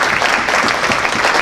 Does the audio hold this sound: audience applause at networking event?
yes